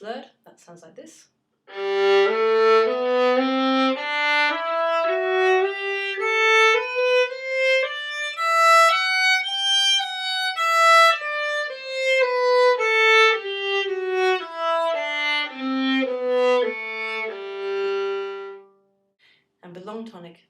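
A violin plays a slurred scale from the Grade 2 ABRSM syllabus, climbing step by step and descending again in smooth connected notes, loud and close for about twenty seconds, with no voice.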